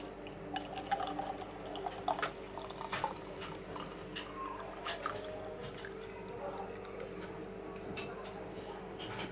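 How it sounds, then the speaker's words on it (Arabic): Homemade juice strained through a strainer into a glass, with a soft continuous liquid trickle and drip, a few faint clinks of the strainer and glass, and a person speaking quietly nearby. "همسك كده واصفي العصير بتاعي"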